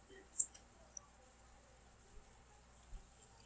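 A computer mouse is clicked and released while a shape is drawn in office software, giving a few faint, close, isolated clicks spread across quiet room tone.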